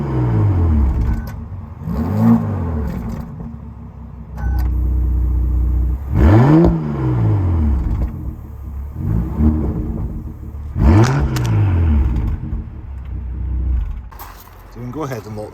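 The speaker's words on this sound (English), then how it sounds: "Here's a little exhaust note from the back." The W12 engine of a 2016 Bentley Bentayga revs up and falls back several times in rising and falling sweeps, heard from nearby at the rear exhaust with a steady idle rumble between.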